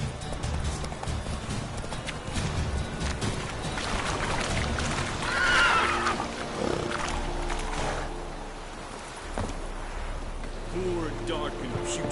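Roach the horse gallops through The Witcher 3 on PS4 with rhythmic hoofbeats under game ambience and a swelling rush of wind or movement, while a voice speaks over part of it.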